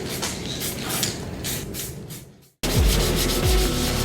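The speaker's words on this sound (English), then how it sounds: "now it's time to sand my etch primer" Etch primer on a dented motorcycle tank is sanded by hand with 400-grit paper in steady, rhythmic back-and-forth rasping strokes, close and fairly loud, with a brief pause before the strokes resume.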